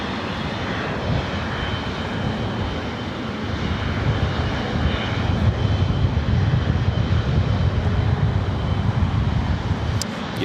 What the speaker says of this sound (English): British Airways Flight 282 heading back to London Heathrow in this 3-year-old